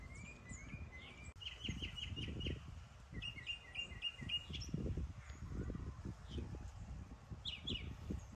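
Birds chirp and tweet outdoors beside a worm bin, bright repeated calls in quick runs over a rustling background, moderately near and free of talk.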